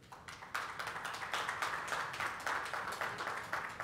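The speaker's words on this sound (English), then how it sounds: "could we give a round of applause as our distinguished guests take their seats on the dais?" An audience at a formal WHO Southeast Asia hepatitis ambassador event applauds steadily, a moderately distant, continuous round of clapping with no voices over it.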